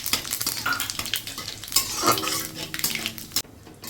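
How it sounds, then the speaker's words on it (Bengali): Cumin seeds and dried red chillies sizzle in hot oil for a rice dish. The frying is busy and crackling, with a spoon scraping and clinking against the pan throughout. "তেল গরম হয়ে গেছে, এবার জিরে আর শুকনো লঙ্কাটা ফোড়নে দিয়ে দিলাম।"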